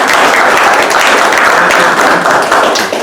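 A community meeting audience applauds, and the clapping stays loud, dense and even for the whole stretch with nobody speaking.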